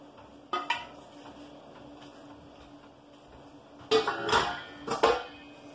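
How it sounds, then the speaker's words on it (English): Beans tipped into a pot of chili thickened with tomato paste, heard as a few bright clattering, sliding bursts of metal and food hitting the pot, with a quick pair early on and a louder cluster near the end. "And we're gonna add our beans."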